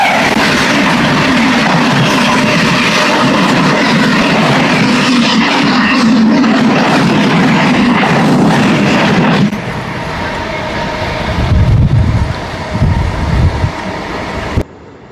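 The Tirumala Express, train 18522, thunders past up close in a loud, steady roar of rolling wagons with rattling clatter, then drops to a lower rumble and heavy thuds as it moves away.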